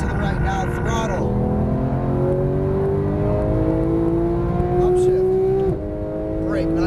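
A Porsche GT3 991 accelerates hard on a race track, its engine note climbing steadily through the revs, loud and close, with a voice talking over it.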